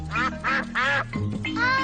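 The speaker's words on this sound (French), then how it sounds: "Peppa et George adorent donner du pain aux canards." Repeated cartoon duck quacks from Peppa Pig in quick succession, loud and close, a few overlapping calls forming a steady rhythm with no talking.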